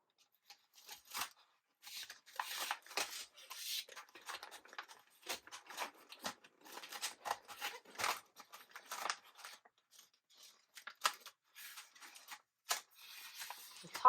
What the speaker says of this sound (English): And peel off the paper liner from the top.